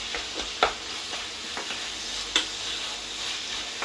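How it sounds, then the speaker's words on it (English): Minced meat frying over medium-high heat while being broken up in a hot pan: a constant close sizzle, punctuated by several sharp scrapes and taps of the utensil against the pan. "It's important that you break the mince up"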